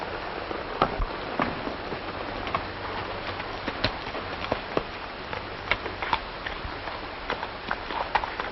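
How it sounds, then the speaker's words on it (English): Hooves drum along at a quick, uneven pace over a steady rain-like hiss, a horse running at moderate distance with no voices. "Looks like Madigan's horse"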